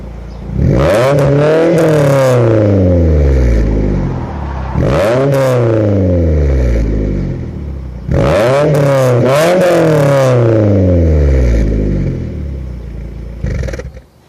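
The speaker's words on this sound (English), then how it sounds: "It's just a straight pipe with a cat back Magnaflow exhaust. I'll show you how it sounds." A 2004 Suzuki Aerio SX with a cat-back Magnaflow straight-pipe exhaust and the second catalytic converter eliminated, revved three times in loud, close bursts, each climbing sharply then falling back to a rumbling idle between.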